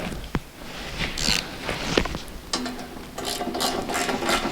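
A ratchet tightens bolts during a winch install: quick bursts of sharp metallic clicking, close up, in several short runs with brief pauses between them.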